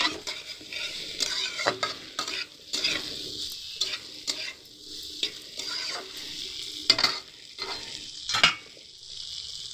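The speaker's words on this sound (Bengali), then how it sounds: "ভালো করে ফুলকপি আলু একসাথে সব ভালো করে কিন্তু নেড়ে নেবো, সব মশলাগুলো কিন্তু মিশিয়ে নেব" Cauliflower and potato pieces coated in spices get stirred in a frying pan for a cauliflower curry, a steady sizzle broken by repeated scraping strokes of the spoon against the pan.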